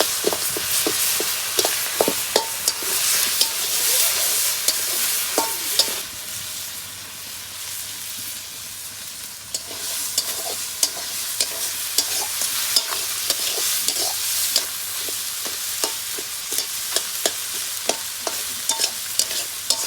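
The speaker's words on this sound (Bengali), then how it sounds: "মাছ ভাজা হয়ে গেছে, এখন নামিয়ে নেব।" Pieces of rohu fish fry in hot oil in a pan, a steady bright sizzle broken by frequent sharp crackles and spatters, with occasional stirring sounds, close and continuous.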